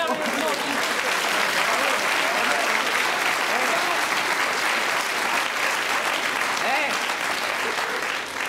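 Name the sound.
audience applause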